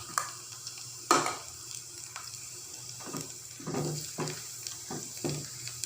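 Garlic and cumin seeds sizzle in hot oil for a tadka for kadhi pakora, a soft crackling hiss in the background broken by sharper clinks and stirring knocks, with no talking.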